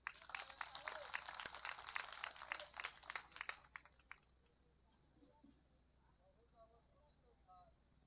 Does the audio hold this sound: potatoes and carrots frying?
no